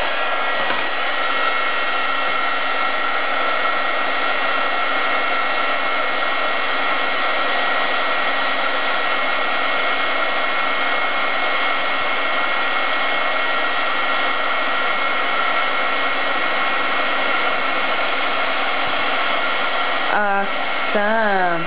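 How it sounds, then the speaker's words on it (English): A heat embossing tool blows a steady, loud whoosh for card making, an unbroken airy roar that holds nearly the whole time before a brief dip and change near the end. "So let's go ahead and start the embossing."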